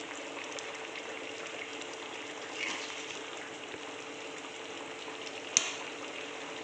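Potatoes boil in a pot of water on a gas stove, a soft, steady bubbling simmer at low level with a single sharp clink near the end.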